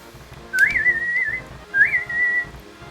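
A person whistles a Legend of Zelda tune, two clear melodic phrases with a short pause between them, close and fairly loud over faint background noise.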